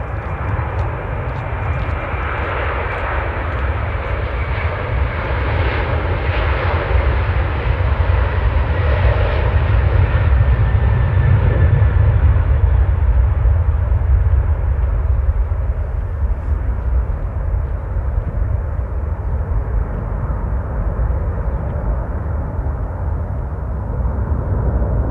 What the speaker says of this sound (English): we're about to be graced with an Aer Lingus takeoff